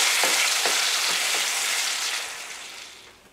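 Food frying and sizzling in a pan on a Maunfeld 594-FL2-vk induction hob, a steady close sizzle with a few soft stirring knocks, fading slightly toward the end, no talking.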